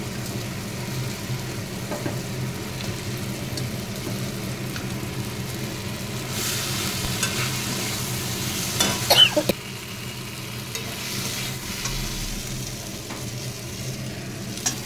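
Katla fish pieces fry in a pan with steady sizzling and occasional stirring, loud and close throughout, with a brief burst of scraping clatter partway through.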